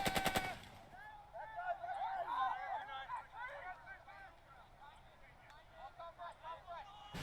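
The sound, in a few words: enemy machine gun firing in the video game Burden of Command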